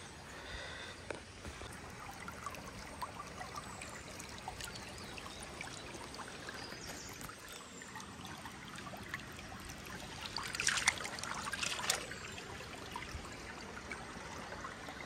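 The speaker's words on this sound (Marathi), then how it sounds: "हा इथे पाण्याचा छोटासा झरा आहे" A small spring trickles through monsoon paddy fields in a Kokan village, giving a soft, steady burble of running water that stays faint and even, then swells briefly louder for a moment.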